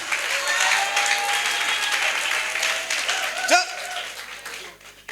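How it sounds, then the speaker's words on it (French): A church congregation applauds and cheers for Jesus Christ, sustained dense clapping with crowd voices filling the space, swelling briefly near the end before fading. "Acclamons Jésus-Christ de Nazareth. J'ai dit d'acclamer Jésus."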